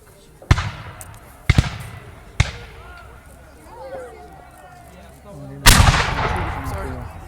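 Musket volleys at a Revolutionary War reenactment, several loud booming shots spaced about a second apart and a final heavier blast with a long echoing tail, while people talk in the background.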